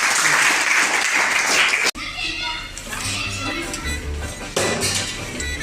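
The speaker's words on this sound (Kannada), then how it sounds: "ಚಪ್ಪಾಳೆ ತಟ್ರಿ." A class of schoolchildren claps after a correct answer in an addition activity, a dense burst of close applause over excited children's voices that cuts off abruptly, followed by chatter and a few more claps.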